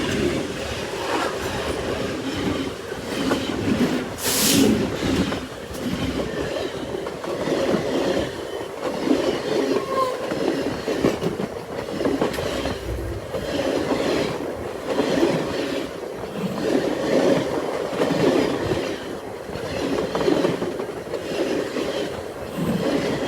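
Union Pacific's Big Boy steam locomotive passes with its train, a long, steady rumble of rolling railcars with rhythmic clickety-clack of wheels on rails, heard from a distance.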